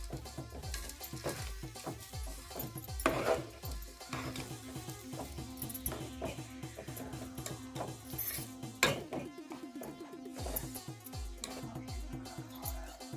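Sesame seeds, peanuts and chana dal stirred together in a metal dish for til ladoo filling, with steady clinks and scrapes of a spoon against the metal under quiet background music, close and moderately loud.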